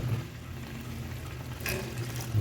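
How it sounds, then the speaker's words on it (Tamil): Water being poured into a pot of mutton biryani, a steady close trickle and splash running continuously with a low rumble underneath. "ஸோ தண்ணி ஆட் பண்ணிட்டுருக்கேன்"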